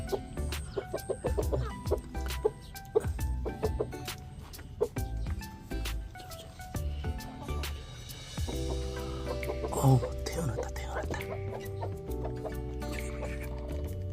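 Hens cluck close by in a coop where chicks have just hatched after about 21 days of brooding. Soft clucks and higher peeps come in uneven bursts for the whole stretch, with no talking.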